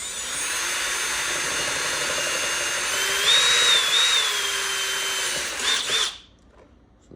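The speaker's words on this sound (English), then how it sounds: "So we'll drill 3 holes here," A power drill bores holes through a plastic center console during an FHR console kit install, whining steadily and close for about six seconds, its pitch wavering slightly as the bit cuts, then stopping.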